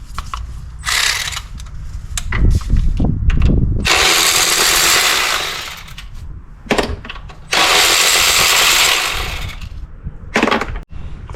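Hand tool loosening and removing 10mm bolts from earth wires in the engine bay of a 2015 Toyota Corolla 1.8L 2ZR-FE, loud close ratcheting and metallic clicking bursts alternating with short pauses, no talk.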